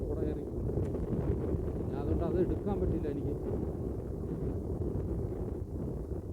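Strong wind roars and buffets the microphone in a constant low rumble at Meghamala in Kollam, Kerala, while a person speaks briefly over it.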